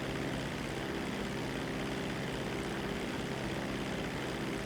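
Steady, droning propeller engine of a seaplane in a flight video game held at full throttle, a constant loud hum with no breaks and no talk.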